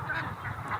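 Peking ducks give a short burst of nasal honking calls, close and fairly loud, with two or three overlapping quacks in under a second.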